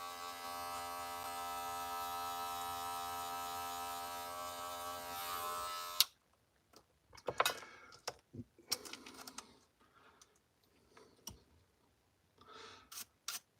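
Electric hair clipper cutting hair during a self haircut: a steady, close mechanical buzz for several seconds, then it stops, leaving scattered rustles, taps and handling sounds.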